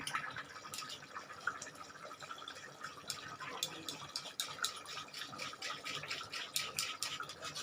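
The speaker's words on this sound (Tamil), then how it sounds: "நான் கரைச்சி வச்சுருக்கேன் தேவையான புளி தாங்க விடுறேன்" Dissolved tamarind water poured into a simmering mango and drumstick curry, a steady trickling, splashing pour of liquid close by with small drips throughout, no talking.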